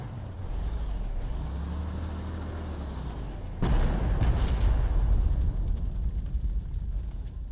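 Artillery fire in the World War II strategy game Panzer Corps 2: a low rumbling engine-like drone, then a sudden heavy boom partway through that leaves a louder, rougher rumble afterward, with no talk.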